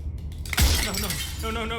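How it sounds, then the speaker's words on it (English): Glass shatters in the video game Slay the Princess: a sudden loud crash with bright tinkling fragments, after which a voice speaks. "at the sound of breaking glass"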